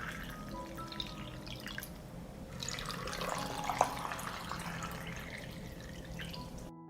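Water trickles and drips into canning jars packed with apricots, a soft continuous pour with small splashes, quiet and close in a kitchen.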